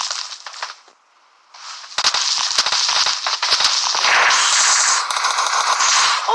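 Gunfire in the PUBG video game, with scattered shots followed by dense crackling bursts from about two seconds onward. The shots are loud and close and carry on to the end.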